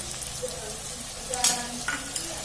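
Garlic-ginger paste fries in a pan with potatoes and onions for rajma masala, a constant close sizzle with a couple of brief stirring scrapes.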